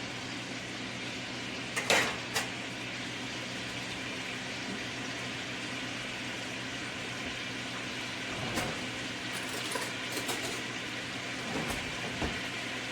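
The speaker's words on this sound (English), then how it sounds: "Now we're just gonna saute this all together" Vegetables and smoked sausage sauteing together in a pan: a steady low sizzle and hiss throughout, with a few sharp clanks of a utensil against the pan early on and scattered scrapes and stirring knocks later.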